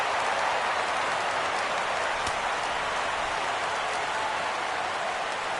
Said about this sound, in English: Crowd gets up for the 3-2.